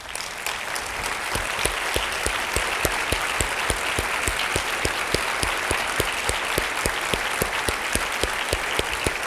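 Steady applause from a large standing audience at a conference plenary tribute, sustained clapping at an even level throughout with no voices standing out.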